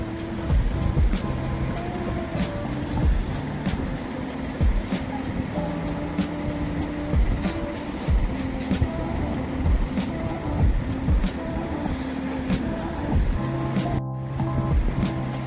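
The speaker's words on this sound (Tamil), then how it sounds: "இப்போ சிக்கன் வேகிற அளவுக்கு தண்ணி ஊற்றி நல்லா கொதிச்சிட்ருக்கு பாருங்கள்" Chicken gravy bubbling at a vigorous boil in a pot, a continuous close hiss and crackle of frying and simmering with steady popping throughout.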